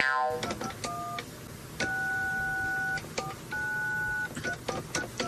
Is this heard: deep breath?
no